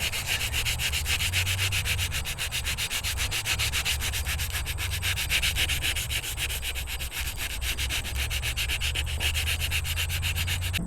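Steady, continuous sanding rasp on the bare metal of a log splitter before priming, a close, even scrubbing texture holding at constant loudness for the whole stretch with no pauses and no voices.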